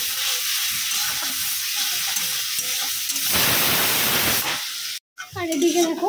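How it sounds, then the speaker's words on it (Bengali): Taro cooking in a pan sizzles and hisses with stirring scrapes, growing louder midway, then briefly cuts out before a voice speaks over the frying at the end. "আর এদিকে কচু রান্না বসিয়ে দিচ্ছি।"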